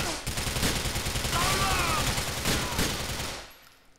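Rapid gunfire in the open-world crime game Grand Theft Auto IV, a loud close burst of overlapping shots for about three seconds, then cutting off abruptly.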